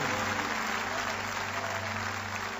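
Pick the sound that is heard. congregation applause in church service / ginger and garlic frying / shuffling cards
congregation applause in church service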